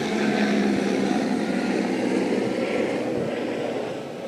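A steady mechanical drone of a helicopter passing at a distance, a broad rumbling whir that slowly fades.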